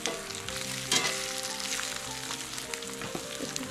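Food fries in a pan with a steady close sizzle and crackle, plus a brief scrape of stirring or turning near the start.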